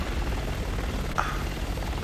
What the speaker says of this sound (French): Cet hélico va bientôt nous tirer dessus !